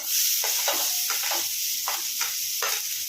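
Finely chopped onions in a small amount of oil sizzle steadily in a pan with a bright hiss, broken by a few short scraping stirs; close and fairly loud, with no talking.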